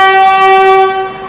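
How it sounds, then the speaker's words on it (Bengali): Horn of a passing train at Jaipur junction blares as one loud, sustained steady tone rich in harmonics, close by and fading slightly at the end, with no talking. "পাশ থেকে মানে একটা ট্রেন যাচ্ছে, মারাত্মক লেভেলের হর্ন দিচ্ছে।"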